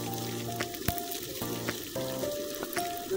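Green chillies and garlic frying in hot oil, giving a soft continuous sizzle with a few light clicks and knocks from the pan.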